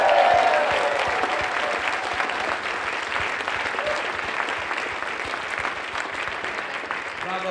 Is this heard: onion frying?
no